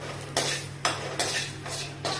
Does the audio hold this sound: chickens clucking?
no